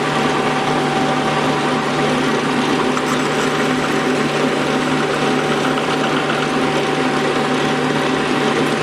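A hard Willys transfer case intermediate gear is machined slowly and gently, producing a loud, continuous machine drone with a steady hum that runs unchanged throughout, with no voices.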